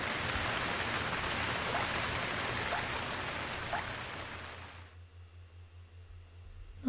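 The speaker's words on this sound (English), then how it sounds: "I guess this needs some rain." Steady rainfall in the video game Quench, a dense hiss of drops on surfaces that pours evenly for several seconds and then cuts off abruptly, leaving a quiet low hum.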